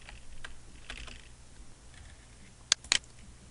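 Keys on a computer keyboard being typed, soft scattered taps early on, then a few sharp, close clicks standing out clearly near the end, in a quiet room with no talking.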